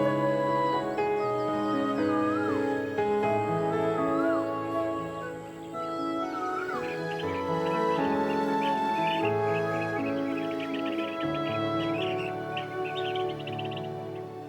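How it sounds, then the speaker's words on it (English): Summering birds give mating calls on Kinmen island: scattered chirps and whistled phrases repeat at moderate volume, mixed with a steady tonal backdrop. "Mating calls of the summering birds can be heard everywhere."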